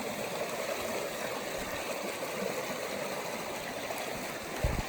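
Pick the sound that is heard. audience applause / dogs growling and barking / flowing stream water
flowing stream water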